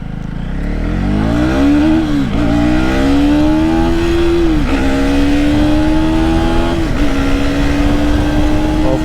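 KTM Duke 250 Gen 3 motorcycle pulling hard through the gears on a road, loud and close, its engine note climbing steadily and dipping briefly at each of several quick upshifts.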